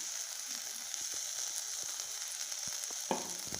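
Ground tomato poured into a hot pan of curry masala for egg pasta sizzles with a soft, steady hiss, faint and close, with scattered small clicks and no talk.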